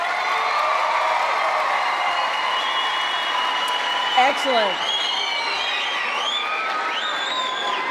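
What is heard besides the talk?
audience applause at an event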